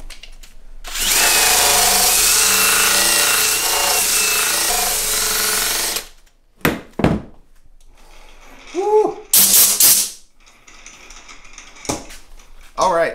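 Power sander whirs loudly and steadily for about five seconds while leveling the waist area of an acoustic guitar's sides, followed by scattered short knocks and handling noises.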